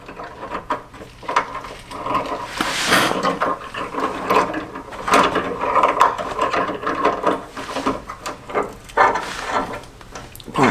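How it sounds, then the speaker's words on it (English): A ratchet tightens a jam nut during a Jeep drop tailgate conversion, giving uneven runs of close, sharp mechanical clicks and clacks throughout with short pauses between strokes. "Screw this thing in here, tighten down the jam nut."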